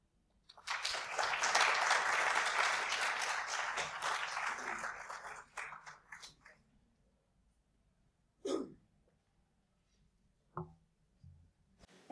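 A lecture audience breaks into loud, dense applause that holds for several seconds, then thins into scattered claps and fades, followed by a couple of isolated sounds in a quiet hall.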